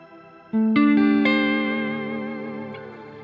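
A few clean electric guitar notes ring out, bathed in a lush reverb that lets them sustain and slowly decay.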